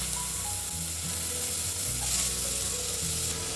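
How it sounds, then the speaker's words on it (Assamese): Finely chopped onions with cinnamon frying in a pan for masala egg gravy give a steady, dense, close sizzle that continues without a break. "এইখিনি এতিয়া অলপ ফ্ৰাই কৰি লওঁ দুটা পিঁয়াজ সৰু সৰুকৈ চপ কৰি লৈছিলোঁ এইখিনি দি আছোঁ"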